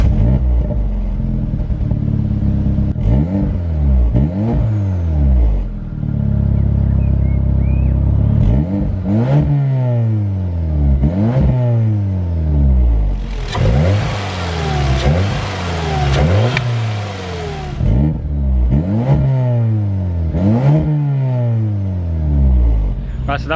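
A 600 BHP VW Golf R's engine revving loudly and repeatedly, with sharp rising and falling sweeps in a steady rhythm and one stretch of hissy, crackling roar in the middle, close and prominent.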